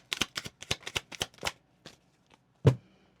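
A deck of cards is shuffled close by in a quick run of sharp riffling snaps, followed by a couple of softer taps and one final louder slap as the deck is squared.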